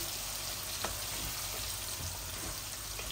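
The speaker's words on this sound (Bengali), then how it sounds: "এই যে ভাজা ভাজা হোক ভালো করে, আগুনও বাড়াই দিছি" Radish and flat beans for a rohu fish curry sizzle in a pan over a raised flame, making a dense, steady frying hiss close up with no voices.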